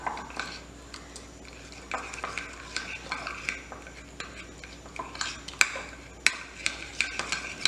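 A spoon mashing microwave-softened white chocolate in a bowl, with steady scraping and stirring broken by light clicks and taps of metal against the dish, close and fairly quiet.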